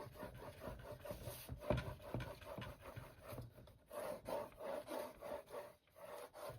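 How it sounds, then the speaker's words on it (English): Paper is burnished while assembling a handmade mini album, making a steady, close, soft rubbing and scraping with back-and-forth strokes. "And then we're gonna burnish."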